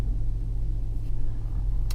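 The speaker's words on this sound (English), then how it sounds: "let's get in a truck and head on down the road" A truck rolls down the road from inside the cab, a steady low rumble of engine and tires with slight surges, no talking.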